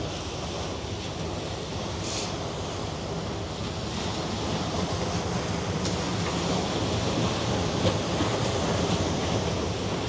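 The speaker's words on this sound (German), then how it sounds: "Also hört ihr die Wellen?" Waves wash steadily in Hamburg harbour, a broad continuous roar mixed with wind buffeting on the microphone, with no talk.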